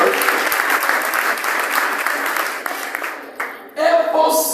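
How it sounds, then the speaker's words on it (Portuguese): A church congregation in Angola claps in sustained applause, loud and dense, thinning briefly near the end before swelling again with a few raised voices. "Salva de palmas, por favor."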